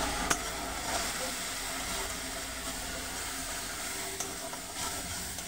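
Spices and salt sizzling in hot oil in a pan while being stirred, a steady close frying hiss with occasional scrape of the spoon, for a banana flower and prawn dish with turmeric.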